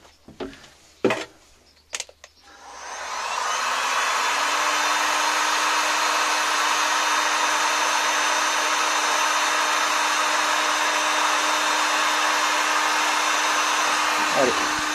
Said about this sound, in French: j'ai mon sèche-cheveux amélioré qui est prêt à entrer en action